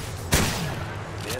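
Gunfire sounds in the video game Apex Legends, with one sharp loud shot and a fainter second report soon after, over a busy game background.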